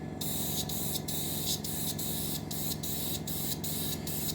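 Steady hissing spray from an aerosol paint can, continuous for several seconds with brief regular breaks, close and fairly loud.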